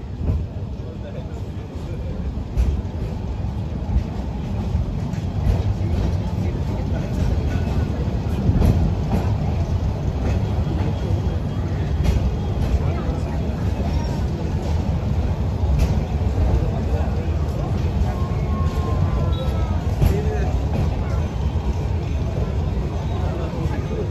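Saikat Express passenger train rolling into Dohazari railway station, a steady low rumble of wheels and carriages with faint rail clatter, continuous and fairly close throughout, with speech heard over it.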